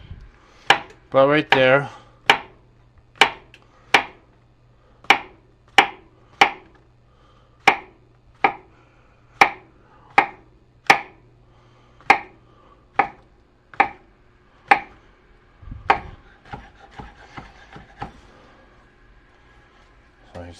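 A knife slices a portobello mushroom thin on a cutting board, making about twenty crisp, evenly spaced knocks, close and clear, with a person talking briefly in between.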